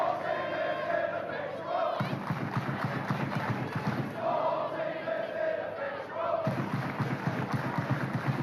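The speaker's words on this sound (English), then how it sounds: "Crowd really finding their voice here late on at Bodydoa Park." Stadium crowd noise from a women's A-League football match, Wellington Phoenix against Canberra United, late in added time, a steady roar with surging chants and cheers filling the stands throughout.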